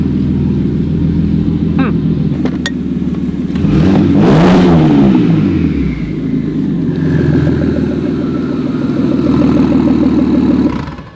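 Single-turbo BMW 335i with a hood exit exhaust revving, a loud close engine drone that swells into a roaring rev with a whooshing turbo sweep, then settles back to a steady hum before cutting off.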